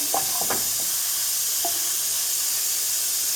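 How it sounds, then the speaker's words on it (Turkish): Hot oil drizzled over a bowl of Turkish yogurt soup, yayla çorbası, gives a constant soft hissing sizzle, with a few faint clinks near the start and no voices. "yağ gezdiriyorum"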